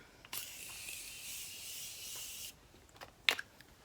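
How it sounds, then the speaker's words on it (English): A continuous fine spray of Morphe makeup setting spray hisses for about two seconds, followed by a few short clicks and rustles. "Now I'm gonna go with my Morphe setting spray, continuous setting spray."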